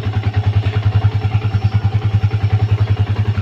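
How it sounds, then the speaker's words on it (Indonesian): A 2015 Yamaha Vixion Advance motorcycle engine idles steadily up close, a smooth, even low throb with a regular pulsing rhythm and no speech over it. "Mesinnya masih sangat halus. Stasioner masih lancar."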